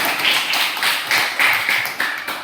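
A short burst of hand clapping in a classroom, several claps in a loose rhythm, close and fairly loud.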